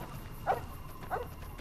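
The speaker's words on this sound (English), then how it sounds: "Why do you bark, bro?" A dog in the video game Fallout: New Vegas gives two short, fairly faint barks about half a second apart, with quiet game ambience underneath.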